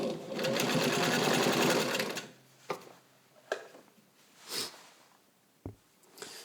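A 1942 Kenmore 117.59 rotary sewing machine stitches fabric at a steady, fast whir for about two seconds, then stops, leaving a few scattered soft clicks and handling noises nearby.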